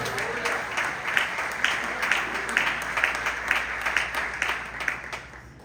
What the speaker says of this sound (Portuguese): Aplausos da terra